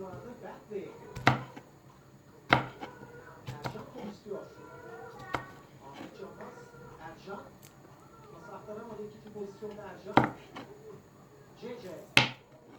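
Sharp knife chops through strawberries on a cutting board land at scattered intervals over steady background talk and music, a few of them louder and close.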